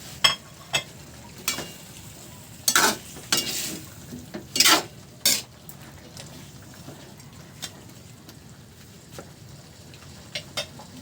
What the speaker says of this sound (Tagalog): igisa ko na yung sibuyas, kamatis, luya, bawang